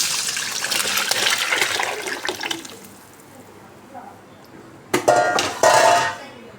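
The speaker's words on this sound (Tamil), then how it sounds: "கரைச்சி வச்ச புளித்தண்ணியும் தக்காளியும் மிளகாய்த்தூள் எல்லாம் மிக்ஸ் பண்ணி அப்படியே ஊற்றணும்" Tamarind water mixed with tomato and chili powder splashes and sizzles into a pan in two short pours near the end, after a stretch of quieter kitchen clatter.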